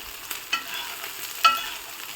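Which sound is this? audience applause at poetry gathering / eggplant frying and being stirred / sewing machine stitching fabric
eggplant frying and being stirred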